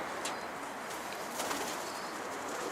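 Pigeons flapping their wings as they take flight, a soft, steady flutter of wingbeats with a couple of sharper wing claps, fairly close, with no talk over it.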